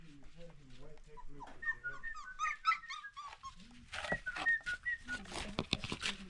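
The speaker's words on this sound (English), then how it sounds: "we have our small puppy in here." A small puppy whimpers in high, thin whines, some sliding in pitch, with a person's voice talking nearby and rain hissing in the background.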